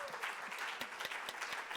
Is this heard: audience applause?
yes